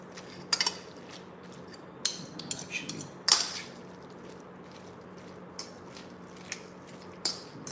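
Chicken and mayonnaise sandwich filling stirred in a bowl, giving soft, scattered clinks and scrapes of a utensil against the bowl, with a few sharper taps among quieter, wet mixing sounds.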